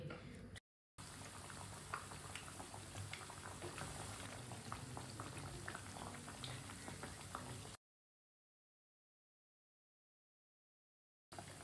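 Pea patties cooking in a pan on a stovetop over medium-low heat, giving a steady, dense sizzle and bubbling with no talk over it, broken by a short gap and then a long stretch of silence.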